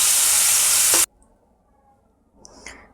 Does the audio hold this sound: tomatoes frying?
yes